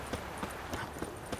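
Horse hooves clip-clop in The Witcher 3: Wild Hunt, a short run of several evenly spaced, moderately loud footfalls over steady game ambience, with no talking.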